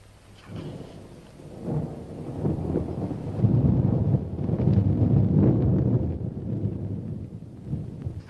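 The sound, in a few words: thunderstorm with rain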